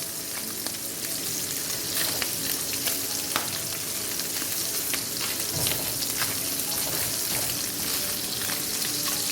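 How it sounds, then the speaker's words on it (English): Cabbage searing in a skillet for Southern fried cabbage, a steady bright sizzle with intermittent stirring clicks and scrapes, moderately loud and continuous, no voices. "Once you get those nice seared color, then you remove them from the skillet."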